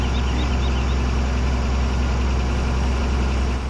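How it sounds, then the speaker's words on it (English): A tractor engine in Farming Simulator 17 idles with a loud, steady, low rumbling drone that holds at an even level throughout, with no talk over it. "That tractor is really loud too, compared to the rest of everything else."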